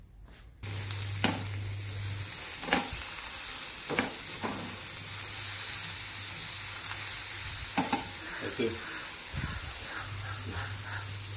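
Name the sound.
fish frying and being stirred in a pan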